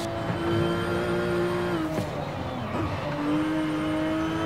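A Subaru SVX engine in the racing game Forza Horizon 5 drones steadily at a sustained, close, loud pitch, briefly dipping and shifting as gears change midway, then settling back into a steady hum under faint speech.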